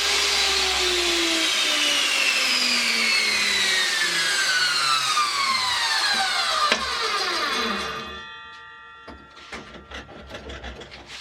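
A jointer with a jig truing mahogany pieces, a loud continuous machine whine with falling pitch as it spins down, ending in quieter scattered knocks and rattles.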